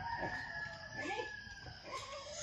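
A rooster crows over a steady background hum, a long drawn-out call with farmyard clucking around it.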